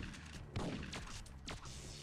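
Sniper gunfire in Syphon Filter on the PlayStation: a few muffled, quiet shots and thuds over about two seconds, with no talking.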